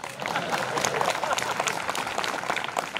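Audience applause at a Marathi comedy kirtan: a dense, steady patter of many hands clapping throughout, with voices mixed in.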